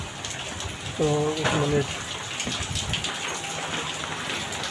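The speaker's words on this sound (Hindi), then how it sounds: "आज भी बारिश आ गई, भारी भरकम से बारिश हो गई आज भी" Heavy monsoon rain falls in Mumbai early in the morning, a steady wash of noise under someone talking briefly near the mic.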